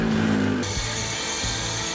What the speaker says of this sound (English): Then we drilled holes in both the aluminium plates as well as the structural wall